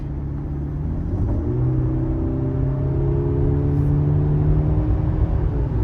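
A 2025 Mercedes-Benz GLC 300 accelerating to merge onto a freeway, heard from inside the cabin as a steady loud engine drone rising in pitch over road rumble, with no talk.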